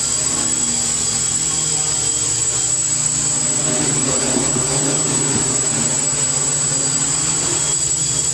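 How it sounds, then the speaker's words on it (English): Propellers on a small FPV drone held on a tuning stand whir continuously at close range, with a high-pitched buzzing tone that swells slightly as stick input changes. "It needs minimal stick input to correct any drifting from the prop wash."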